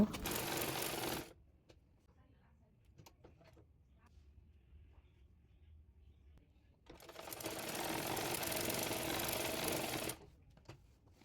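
A sewing machine stitches a yoke design onto the front jute-cloth panel of a kameez, running in two loud, steady bursts of about a second and three seconds, separated by a quiet pause with faint handling clicks.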